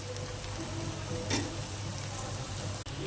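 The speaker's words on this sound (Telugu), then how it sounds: "ఇంకా కొంచెం మగ్గాలి. బెండకాయ మగ్గాలి." Okra (bhindi) cooking in a pan, making a steady soft sizzle and crackle throughout with a faint low hum beneath and one brief click near the end; no one speaks.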